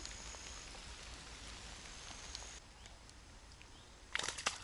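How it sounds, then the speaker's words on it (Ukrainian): Rain falls steadily at a carp-fishing spot, a soft continuous patter with a few close drops, ending in a sharper brief clatter near the end. "Гарний дощ гарний."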